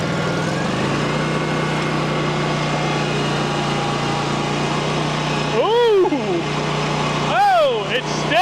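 A Scag V-Ride II XL stand-on mower engine runs steadily at close range under a ride, holding a constant drone with a couple of rising and falling revs near the end.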